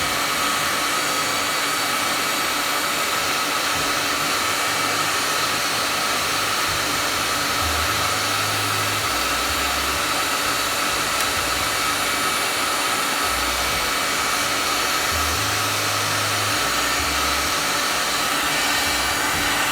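A heat gun blasts hot air onto an Arris MTA circuit board, a loud, unbroken roaring hiss that continues for the whole stretch with only faint low fluctuations underneath.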